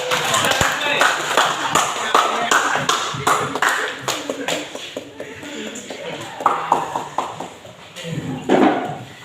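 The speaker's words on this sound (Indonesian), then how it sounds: "Tepuk tangan dulu untuk kelompok 3." A class claps together for a student group under ongoing speech and room chatter, the sharp claps scattered irregularly for several seconds before tapering off.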